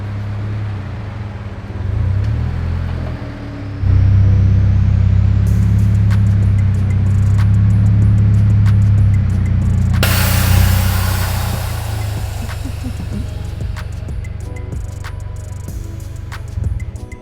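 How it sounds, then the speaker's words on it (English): A Scion FR-S sports car's engine idles loudly nearby, then picks up with a steady low drone as it rolls into a shop, a brief rise in broadband noise midway before settling back to a low hum. "I'll pull the FRS in over there"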